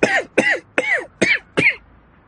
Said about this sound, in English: you should really see a doctor if that cough continues.